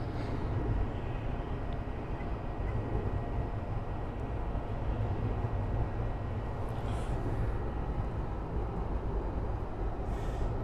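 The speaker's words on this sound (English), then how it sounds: "Embraer 175 from NV Airlines, American, flight 3446, approaching runway 9 at the moment" An NV Airlines Embraer 175 airliner approaches runway 9 at Miami airport, heard as a steady low distant engine rumble and roar that holds evenly throughout with no talk.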